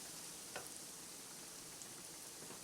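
Breaded venison pieces frying in a pan over medium heat, a faint, steady low sizzle with a couple of small pops and no voices.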